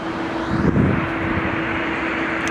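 An Alaska Airlines Boeing 737 on short final at Portland airport, a steady broad engine roar heard from outside with wind noise and a faint hum.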